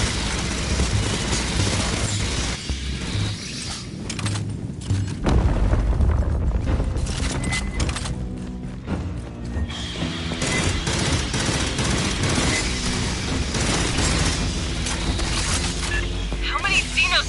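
A deployed sentry gun in Aliens: Fireteam Elite fires sustained rapid bursts amid booming explosions, a loud, dense barrage of gunfire running continuously throughout with brief lulls.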